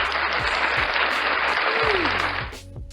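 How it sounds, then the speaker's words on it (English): Steady crowd applause opening a podcast episode, a dense even wash of many hands clapping that holds strong and close before tapering off in the last half second. "applause, applause, applause."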